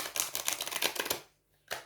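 Tarot cards being shuffled by hand, a run of quick papery riffling flicks close up, then a brief pause and one more soft snap of cards.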